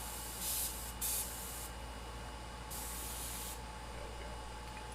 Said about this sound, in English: Oh, I'm getting paint spray.